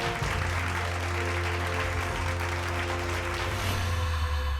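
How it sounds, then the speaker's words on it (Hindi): An audience at a Bhojpuri awards show gives sustained, loud applause for an award presentation while a low musical drone and tones play underneath. "जोरदार तालियां इस अवार्ड के लिए।"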